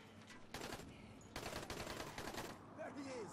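Gunfire in Dying Light, loud rapid automatic bursts in several clusters separated by short pauses.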